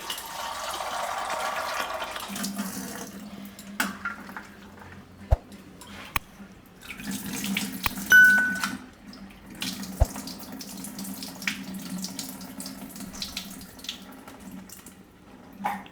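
Green peas are washed under running tap water in a kitchen sink, the stream hissing and splashing continuously with occasional clinks and rattles of the peas and container.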